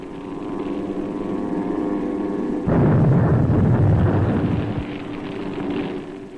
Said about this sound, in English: Sometimes the planes dropped napalm-filled belly tanks with instantaneous fuse mechanisms.